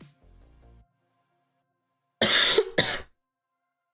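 Two quick, sharp coughs close to the mic, following a low muffled rustle, then quiet.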